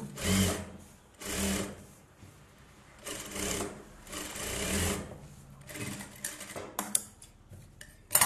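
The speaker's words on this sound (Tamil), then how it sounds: "ஒரு எஜ்ஜு தையல் போட்டுக்கோங்க" A sewing machine runs an edge stitch on a 34-inch close-neck blouse in several short bursts separated by brief pauses, followed by a few light clicks and taps.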